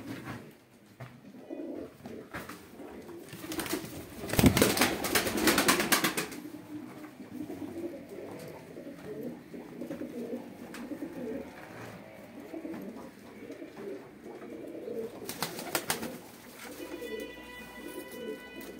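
Pigeons coo repeatedly inside a coop housing young smoky and emperor birds, soft rolling calls near and steady throughout, with a brief louder burst of wing flapping and scuffling.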